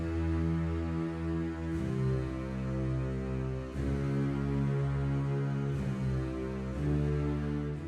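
Layered low brass and bass software instruments, tuba and bass parts stacked in a Mixcraft arrangement of the Avengers Endgame theme, swell through long sustained chords that change every couple of seconds, dense and steady with no talking.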